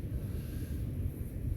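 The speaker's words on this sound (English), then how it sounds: "It's really windy out." Strong wind buffets the microphone in a steady, low, rumbling roar with no other sounds, outdoors on the Appalachian Trail.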